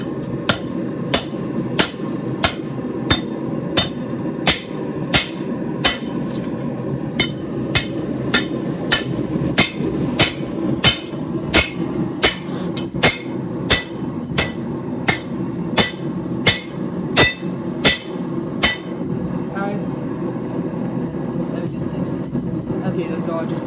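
Steady, ringing hammer blows on hot steel while a hanger sword is forged by a blacksmith, about one strike per second, loud and close over a constant rumbling forge drone, stopping near the end.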